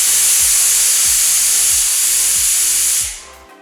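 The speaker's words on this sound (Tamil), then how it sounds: "குக்கரை மூடி 3-4 விசில் மீடியம் ஃப்ளேமில் வேக விடுங்க." A stovetop pressure cooker of vegetables for Tamil kaara poli, on a medium flame, lets off a loud, continuous hissing steam whistle with a fast rattling pulse underneath, before it cuts off abruptly near the end.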